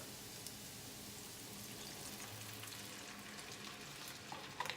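Half and half cream heating toward a boil in a pan for a steak dinner, giving a steady, close frying sizzle and bubbling hiss throughout with a few small clinks near the end.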